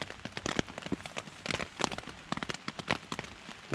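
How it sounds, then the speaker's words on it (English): Rain pattering on a tent at night in woodland, irregular close drops and splashes of varying loudness over a steady soft hiss. "it's raining again"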